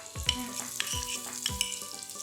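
Curry leaves hit hot oil in a tempering, giving bursts of crackling sizzle under several knocking stirs and taps against the pan, spaced at a steady pace.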